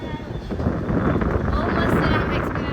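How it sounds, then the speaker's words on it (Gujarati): Strong wind buffets the microphone on a suspension bridge linking two hills at Sanga Mahadev, Nepal, a steady broadband roar that runs throughout with people talking underneath. "જોરદાર પવન આવે છે."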